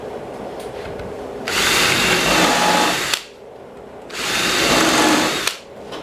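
A power drill drives number 8, 1.5-inch screws into a wooden five-board bench in two loud whirring bursts of about one and a half seconds each, separated by quiet pauses.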